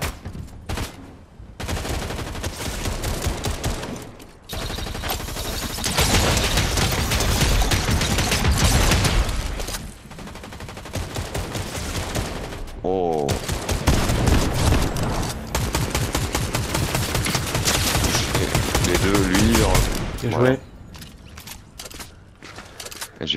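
Gunfire in a battle royale video game: dense, sustained bursts of rapid automatic shots with mechanical clatter, loud and continuous for most of the stretch, broken by a few brief pauses.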